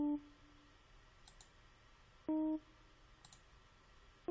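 Mouse clicks on a computer while editing in GarageBand, a few faint sharp clicks spread out in a quiet room, mixed with short tones.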